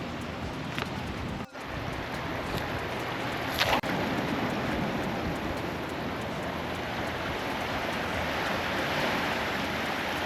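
Continuous broadband wash of sea water at a small mangrove inlet, steady and fairly loud like surf or wind-blown water, with a brief dropout and a couple of faint clicks, no speech over it.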